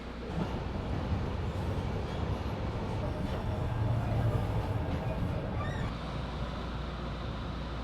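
An electric subway trolley runs on Boston's Green Line near Boston College, a steady loud rumble and rail roar inside the car with brief squeals, and a muffled voice heard under the noise.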